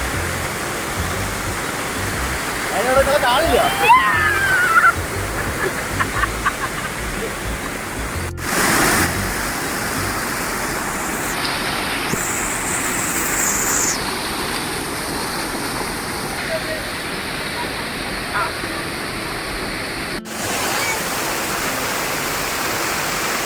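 Waterfall at the Gayathri River check dam in Alathur, a loud, constant rushing roar of falling water heard close up, with brief voices and small knocks over it.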